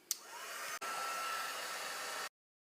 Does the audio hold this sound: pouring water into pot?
no